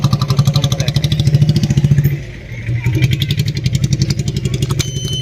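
A motorcycle engine idles close by in a village, thumping in a fast, steady rhythm with a brief dip in the middle before picking back up; faint voices may sit under it.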